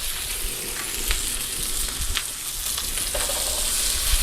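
Onion, garlic and ginger sizzle steadily in a hot pan for a keto stir fry, a dense, continuous frying crackle with occasional sharper pops and stirring scrapes, close and fairly loud with no talking.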